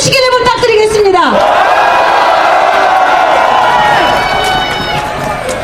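A rally crowd cheering and applauding, a loud roar of shouting voices and clapping that holds steady for several seconds and tapers slightly at the end.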